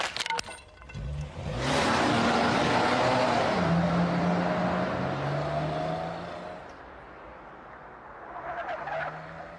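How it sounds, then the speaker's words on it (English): A car pulls away fast, with a broad roar that swells quickly and holds loud for several seconds before easing off, plus faint clattering near the end. "I heard a car pulling off really fast"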